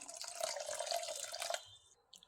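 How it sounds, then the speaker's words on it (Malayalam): Water from a rinsed mixer jar poured into a pot of taro-leaf curry, a steady splashing trickle for about a second and a half before it stops, alone without voices. "മിക്സി ഒന്ന് കഴുകി ഒഴിച്ചു കൊടുക്കാം"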